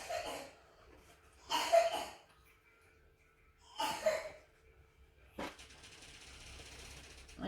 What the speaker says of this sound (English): As you can hear, my child has a cough.